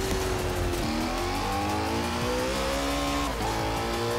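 A Koenigsegg accelerates hard in Forza Horizon 4, its engine note climbing steadily and loud with gear-change dips, close and continuous with no talk over it.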